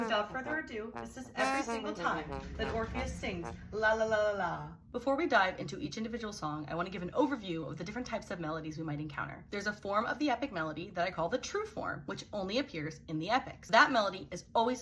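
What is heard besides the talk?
No everyday noises stand out.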